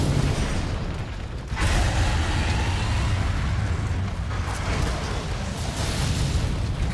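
Gunlance Wyrmburst Stake explosions from the Monster Hunter video game boom in a dense, continuous roar, loud and sustained with a brief dip before the rumbling blasts surge again.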